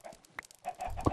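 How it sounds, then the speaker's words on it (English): Chickens in the Minecraft video game give a few soft, faint clucks that come and go, followed by a low thump. No one is talking. "You can hear the chickens."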